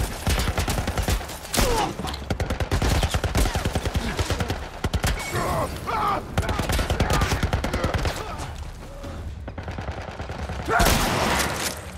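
Gunfire in the video game The Last of Us Part I comes as dense bursts of close shots, repeated in rapid clusters over busy game sound throughout.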